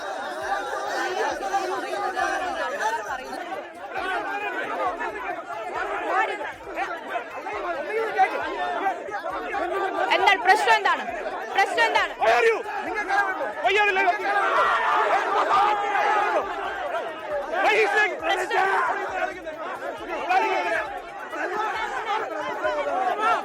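A crowd presses around a woman reporter during a BJP–CPI(M) clash in Vattiyoorkavu. A continuous jumble of many overlapping voices rises and falls, with scattered shouts and laughs.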